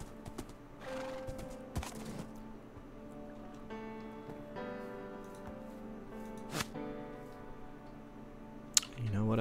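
A horse in the Minecraft video game neighs and clip-clops through a string of short game sounds and chimes, with brief clicks and a louder burst near the end.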